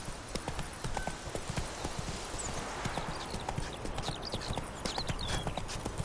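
In a PS4 game, a horse gallops at a quick, even beat, the hoofbeats close and continuous throughout, with a faint whinny-like trace and a few light sounds behind.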